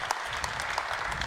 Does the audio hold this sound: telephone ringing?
no